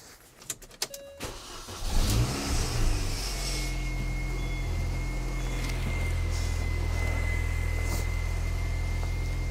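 A project car with a leaking power steering system cranks with a few rapid clicks and a whirring starter, then the engine catches and settles into a steady, rumbling idle close by, with no talk over it.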